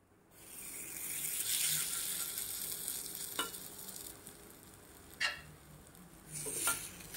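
Appe batter spooned into a hot, oiled appe pan sizzles and hisses as it hits the oil, swelling then easing. Occasional sharp clinks of a utensil against the pan cut through.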